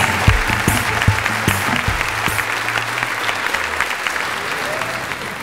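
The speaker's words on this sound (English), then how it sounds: "Please join me in a huge round of applause" A Comic Con panel audience applauds stop-motion special effects panelists, sustained clapping from a large hall with a few whoops and cheers, while a low voice briefly speaks beneath the start.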